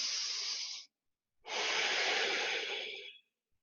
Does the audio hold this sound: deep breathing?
yes